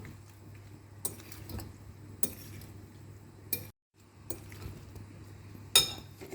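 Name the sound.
mixing mango salsa with sugar, salt and vinegar in bowl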